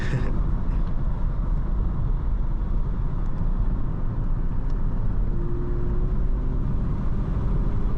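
Right-hand-drive car with a non-turbo Toyota 1JZ-GE engine cruising on a road, a steady low rumble of engine and road noise heard from inside the cabin, with faint clicks and a brief whine partway through.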